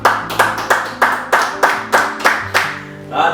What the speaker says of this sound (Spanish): Wow, no merece un aplauso.